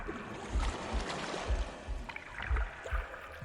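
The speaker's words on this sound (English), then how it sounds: "The gurgling of water" Gurgling water in the video game The Last Campfire, a continuous bubbling wash with rhythmic low throbs beneath it, fairly close and filling the scene.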